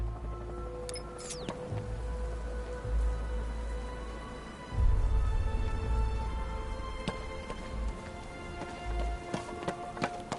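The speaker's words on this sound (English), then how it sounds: "What's with all the rain?" Rain falls in the Batman: Arkham Knight video game as a steady patter across the scene, with scattered thuds and taps layered over a constant low rumble.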